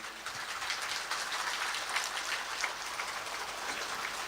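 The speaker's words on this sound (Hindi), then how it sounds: "तो आप लोग ताली बजा करके ठाकुर जी का स्वागत करेंगे" A live audience at a Shrimad Bhagavat Katha gathering claps to welcome Thakur ji, a dense, steady wash of many hands applauding together, sustained evenly throughout with no voices on top.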